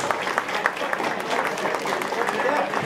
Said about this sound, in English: So guys, give them a big round of applause.